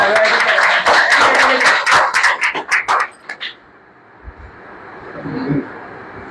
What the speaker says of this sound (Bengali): সবাই হাতে তালি ওনার জন্য।